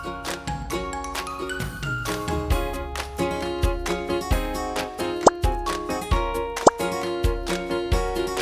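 Dozens of boxes of borax-free foam slime, including a clay type, are kneaded together by hand, giving close, wet plops, squishes and sticky pops in an irregular rhythm, with a few sharper snaps.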